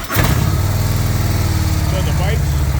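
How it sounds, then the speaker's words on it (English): A motorcycle engine cranks and catches, then settles into a steady, loud, close idle with a low, regular pulsing. "So now, this motorcycle here, I can start her up."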